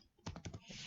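Brief burst of computer keyboard typing while C++ code is written, a quick run of four or five close, crisp key clacks in under a second, alone with no talk.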